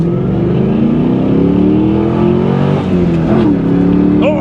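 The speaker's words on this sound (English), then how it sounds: "When it spun the tires, I got a little light that said low traction." A 2000 Pontiac Trans Am WS6 accelerates hard with a loud, steady engine roar and rising pitch, tires spinning and briefly chirping near the end, close and continuous.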